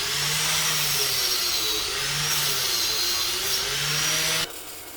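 Angle grinder fitted with a flap wheel strips paint from steel stabilizer jacks for a teardrop trailer, a continuous close whirring grind with the pitch dipping and rising under load before it abruptly drops off near the end.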